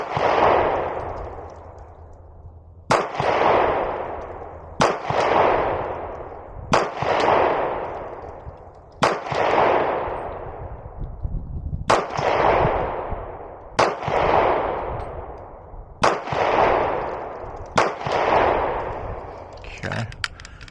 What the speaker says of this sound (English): I'm going to try and shoot a group at 7 yards